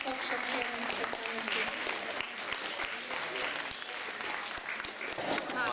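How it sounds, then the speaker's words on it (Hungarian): Audience applause at a school quiz competition in Óbuda's cultural centre, steady dense clapping filling the hall for several seconds with faint voices mixed in. "egy legnagyobb tapsot kérünk szépen"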